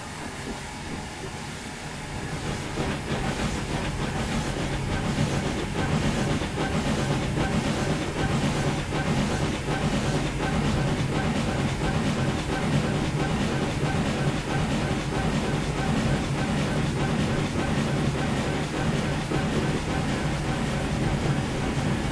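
A steam locomotive on the Swanage Railway in Train Simulator 2021 blows off steam as a broad, steady hiss over continuous rolling rail rumble and clickety-clack, loud and sustained from start to end with no talking.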